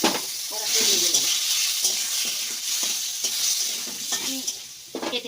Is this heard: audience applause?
no